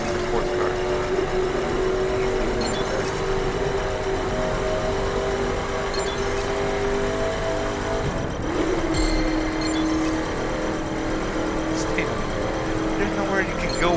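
A super sports car speeds along a road in The Crew racing game, its engine droning steadily with a sustained tone and a brief whoosh midway, under continuous excited commentary from people talking.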